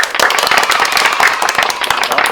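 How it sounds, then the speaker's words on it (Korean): Clapping from an audience at a student author talk, a dense burst of many hands applauding together, loud and close, with no voices over it. "자 박수 한번 치면서 시작할까요?"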